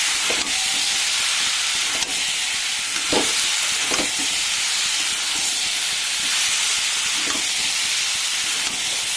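Small chopped chicken pieces being stirred into a jackfruit curry in a hot pan, giving a constant loud hissing sizzle with occasional soft scrapes and knocks of the spoon, no talk.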